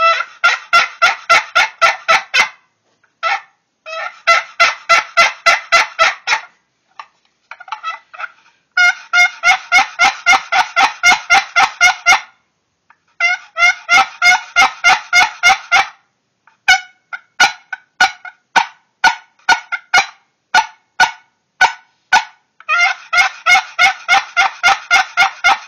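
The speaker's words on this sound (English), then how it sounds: "Just a good all-around, good-sounding cedar call." A cedar box turkey call with a mother-of-pearl inlaid lid is scraped in rapid, raspy yelping bursts, loud and close, played in repeated runs with short pauses between them.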